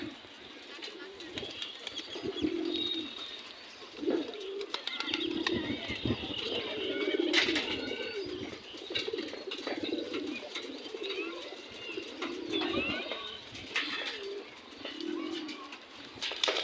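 Brown-throated pigeons coo in repeated low, rolling phrases close by, with soft chirps and a few wing flutters mixed in over steady background noise.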